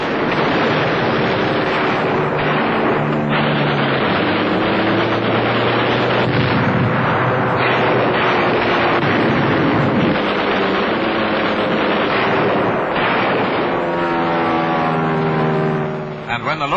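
Loud, dense gunfire and explosions roar continuously as US 8th Fighter Command planes strafe parked aircraft, airfields and hangars in World War II, with a voice speaking over the din.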